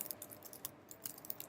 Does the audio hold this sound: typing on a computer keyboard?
yes